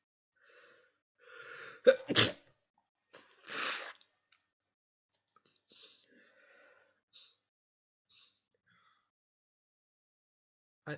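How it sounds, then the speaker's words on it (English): A sharp, loud sneeze with a quick inhaled buildup just before it, then a few faint sniffs and small noises in an otherwise quiet room. "Sorry, I'm just gonna sneeze."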